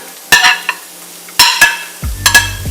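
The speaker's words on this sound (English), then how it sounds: "Then stir fry them all together." Carrots and French beans being stir-fried with garlic in a pan: three clusters of scraping, clattering stirs over a steady sizzle, loud and close, with no talking.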